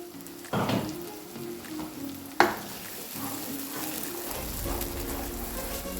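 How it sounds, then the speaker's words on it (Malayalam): A ground masala paste for coconut-milk paneer curry fries and bubbles in a pan, a steady close sizzle broken by a couple of sharp utensil knocks near the start, with no talking. "ഇതൊന്ന് വെള്ളം വറ്റി ഒന്ന് ഡ്രൈ ആയി കിട്ടിയാൽ മതി കുറച്ചൊന്ന് ഫ്രൈ ആവണമെന്ന് മാത്രമേ ഉള്ളൂ"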